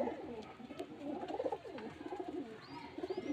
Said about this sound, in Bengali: এগুলো কালশিরা লাইনের পায়রা।